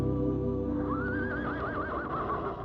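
A horse neighs in a radio comedy skit, a single wavering whinny that trembles up and down for about two seconds over a low background hum, clear and fairly close.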